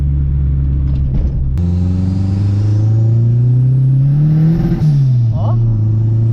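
A Fiat 147 turbo car accelerating from inside the cabin, a loud engine drone that climbs steadily in pitch as the turbo kicks in, with a turbine whine rising above it before a brief gear-shift dip.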